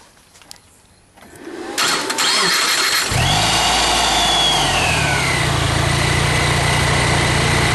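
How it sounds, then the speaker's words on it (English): A car engine cranks and catches, then rises into a short rev and settles into a steady, loud, even idle, heard up close with no talking. "I'll start the engine momentarily. I'll give it a little rev, and the camera can stay focused on the engine."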